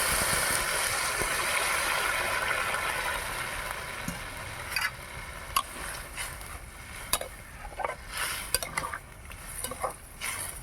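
Water poured into a pan of soybean and egg curry in a home kitchen, a steady wash of liquid noise for several seconds, then a few clinks and scrapes of a spoon against the pot with no talking.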